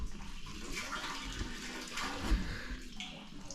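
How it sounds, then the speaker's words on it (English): A garden hose runs into a water tank at an off-grid cabin in Canada, giving a steady rushing gush of filling water with no break. The sound is close and continuous, with no talk. "So I've hooked up the hose now and it's filling up my tank."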